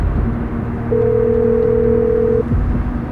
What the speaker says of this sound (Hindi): कबीर ने आरोही को फोन लगा दिया।